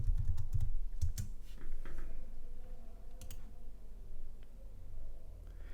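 An employee code is typed on a computer keyboard: a quick run of close, crisp key clicks that comes in short clusters with small gaps between them.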